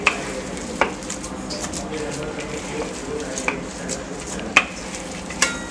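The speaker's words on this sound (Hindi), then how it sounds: "अब ये आपका लहसुन अच्छे से मिल गया" Garlic is stirred into suran bharta, a mashed yam dish, in a pan: soft scraping and light sizzling with a few sharp clicks of a spoon against the pan at irregular intervals.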